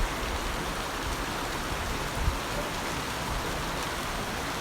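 Heavy rain pours down steadily after a full day and night of downpour, making a dense, even hiss with a low rumble that never lets up and carries no talk.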